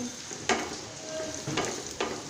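Whole spices such as cardamom, cinnamon and bay leaf are stirred in a hot pan. A soft steady sizzle is broken by a few sharp scrapes and clinks of the spoon, close and quiet.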